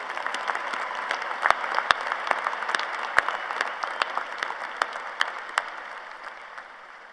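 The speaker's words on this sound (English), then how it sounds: "Let's give them all a big round of applause." Dense, sustained applause from a large audience at the University of Idaho 2024 spring commencement ceremony, steady crackling clapping that holds for several seconds before gradually thinning out.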